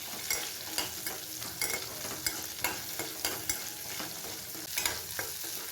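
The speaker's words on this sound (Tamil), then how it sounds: "எல்லாத்தையும் நல்லா வதக்கி விட்டுக்கலாம்" Tomato, ginger and garlic sizzle and fry in a pan while being stirred, a steady close crackle with repeated scraping strokes of the spoon, no voices.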